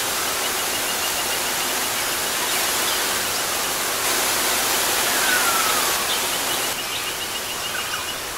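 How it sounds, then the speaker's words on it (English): A small jungle waterfall in the Blue Mountains near Sydney, Australia gives off a continuous, even rushing hiss of falling water, fairly close and unbroken, with no voices over it. "It's like a mini baby waterfall."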